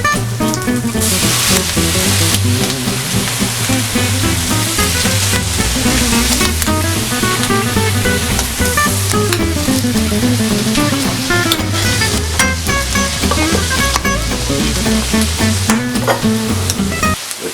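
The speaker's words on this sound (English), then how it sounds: "Let's add our chopped tomatoes." Chopped tomatoes sizzle loudly in a pan with onion and garlic for a scallop and bacon paella, a steady dense frying hiss with stirring scrapes running throughout, close and without voices.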